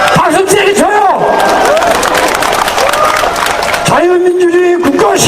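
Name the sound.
crowd applauding at a candlelight rally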